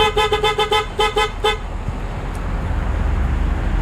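A loud, close double contact horn on a Honda Click 125 scooter gives a rapid run of short honks, then stops and leaves steady road and traffic noise.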